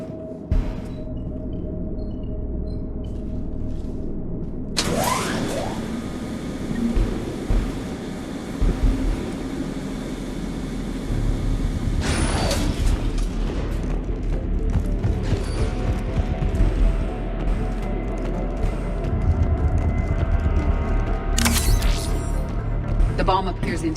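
Elevator ride in the Mass Effect 3 game, a continuous mechanical rumble with creaks and ratcheting clanks running throughout, with louder surges partway through and voices talking over it.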